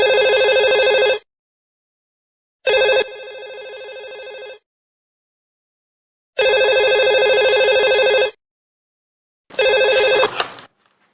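A telephone in a home rings loudly in close, regular electronic bursts, four rings separated by silent gaps, the last one cut short.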